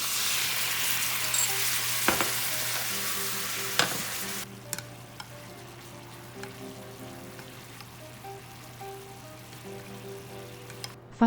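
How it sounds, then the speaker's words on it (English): Pork belly rolls wrapped around green beans and carrots frying in oil, a bright, loud sizzle that abruptly drops to a quieter crackle partway through, with a few sharp taps from a utensil against the pan. "We want to get them nice and golden brown on the outside, while still keeping them tender and juicy on the inside."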